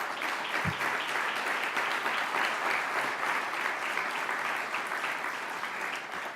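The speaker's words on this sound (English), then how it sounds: "Let's give a round of applause for that." A corporate presentation audience in New York claps in a sustained, dense round of applause, steady and fairly loud throughout with no voices standing out.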